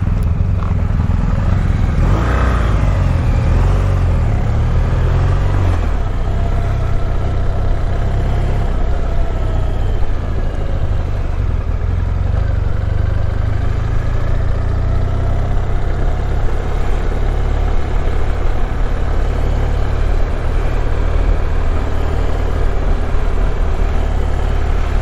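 A BMW R1250GS Adventure motorcycle engine rumbles steadily and loud at close range, the pitch swelling slightly as the bike pulls away to lead off.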